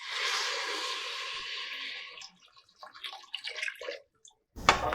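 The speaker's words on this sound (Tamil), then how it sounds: "இப்போ நம்ம தண்ணி சேர்த்துக்க போகிறோம்." Water pours steadily into a cooking pot for barnyard millet pongal, a loud splashing stream for about two seconds, then scattered drips and small splashes before a short clatter at the end.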